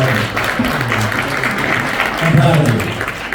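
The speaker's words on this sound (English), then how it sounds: "Give this man a round of applause for being the police department." A supporters' rally crowd applauds a police officer with loud, sustained clapping, mixed with voices and cheers rising over the din.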